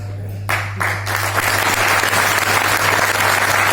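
Seminar audience in Jind bursts into applause, starting with a few separate claps and quickly building into sustained, dense clapping from a large crowd, close and loud over a steady electrical hum.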